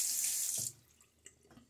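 A faucet runs into a sink to rinse a Gillette Tech safety razor, a bright hiss of flowing water for under a second before it shuts off, followed by a few faint clicks and knocks.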